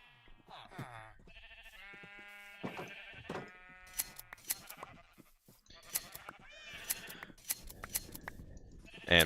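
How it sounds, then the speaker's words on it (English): Sheep shearing in the video game Minecraft, with repeated sheep and goat-like bleats and short snipping clicks scattered across the clip, fairly quiet and close. "shear the sheep"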